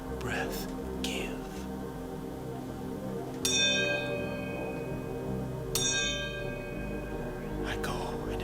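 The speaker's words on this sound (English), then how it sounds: "The bell invites me." A bell tolls a knell in a staging of Macbeth, sounding two clear, ringing strokes a couple of seconds apart, each one left to decay, over a low background hum and quiet voices.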